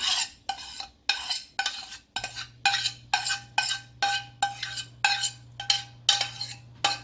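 An onion and garlic mixture stirred into a meatball mixture in a bowl: close, rhythmic utensil strokes about twice a second, each a short scraping swish with small clinks, over a faint steady hum.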